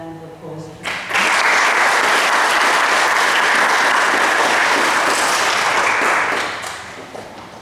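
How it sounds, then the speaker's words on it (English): An audience at a school presentation day breaks into loud, sustained applause for about five seconds, then fades. A voice speaks briefly just before the clapping begins. "a round of applause"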